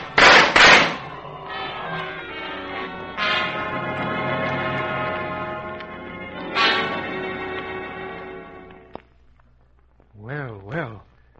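Several loud, sharp gunshot bursts ring out in an old-time pirate adventure radio drama, mixed with shouting voices and a roaring, resonant backdrop before it fades to quiet and a brief vocal cry.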